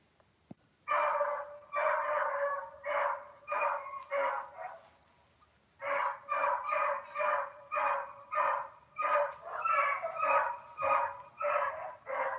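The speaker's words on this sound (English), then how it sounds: "That beagle's got a bark like a train horn." A beagle barks repeatedly in loud, regular bursts, a run of barks, a short pause, then another long rhythmic series, fairly close.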